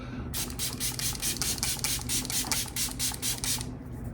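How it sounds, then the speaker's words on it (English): A spray bottle fires about a dozen quick pumped bursts in a steady rhythm, close and hissy, against a low background hum. "So I'm gonna put on this setting spray."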